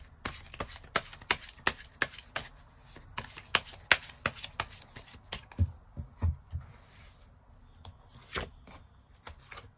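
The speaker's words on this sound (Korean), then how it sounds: "이 이후에 새로운 인연의 등장이 있을지 추가 카드 뽑아보도록 하겠습니다" Tarot cards riffled and shuffled in a rapid run of crisp, papery flicks and slaps, followed by a few softer, separate taps as cards are drawn and laid down.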